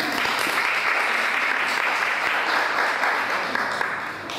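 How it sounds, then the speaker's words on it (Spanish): A crowd gives dense, loud applause in a hall, a sustained wash of many hands clapping together that holds steady and then begins to taper off. "Un aplauso"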